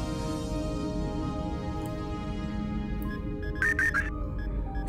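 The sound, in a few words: computer email notification sound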